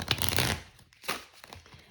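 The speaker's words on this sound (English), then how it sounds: "Let me get a shuffle going." Oracle cards are shuffled up close in a couple of quick papery riffle bursts, the first longer and louder, the second shorter and softer.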